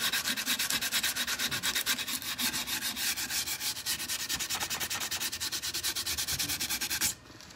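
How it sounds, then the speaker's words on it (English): Sandpaper rubbing stain off wood in quick, rhythmic back-and-forth strokes, close and even, stopping abruptly just before the end. "Sanding off some of that stain."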